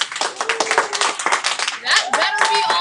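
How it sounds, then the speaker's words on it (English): Students in an algebra classroom clap together in a quick, uneven burst of hand claps, loud and close, continuing for a few seconds with a little overlapping chatter. "clap if you know what this formula is"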